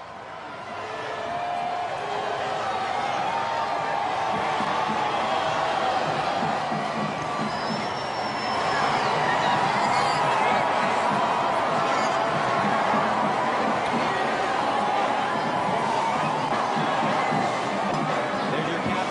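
A large crowd fills the street at a Pittsburgh Penguins Stanley Cup victory parade, a steady roar of cheering and chatter at the Boulevard of the Allies and Grant Street, with occasional whistles and shouts rising from the din.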